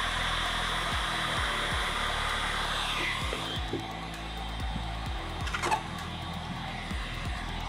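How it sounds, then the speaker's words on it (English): A heat gun blows on the edge of vinyl wrap film with a steady airy hiss, while repeated sharp low knocks and scraping handling noises come through close by. "with all cuts, we always like to use a heat gun"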